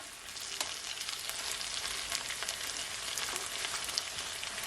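Pepper steak sizzling in a frying pan as the pieces are turned: a steady crackling hiss with small pops and scraping, close and moderately loud, no talking.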